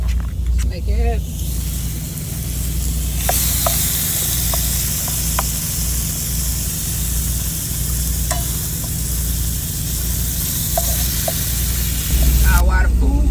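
Food sizzles steadily in a pan on a stove inside a semi truck cab, a continuous frying hiss with occasional clinks and scrapes and a low engine hum underneath.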